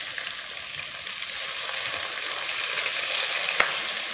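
Seeded, cut tomato and vegetables lightly frying for chicken manchurian make a continuous close sizzle with gentle stirring and one small sharp tap near the end.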